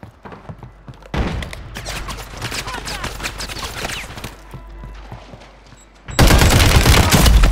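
Heavy gunfire from a big gun in Modern Warfare 3 during a Resurgence trios match on Vondel, loud sustained bursts of rapid shots that pause briefly and then resume even harder near the end.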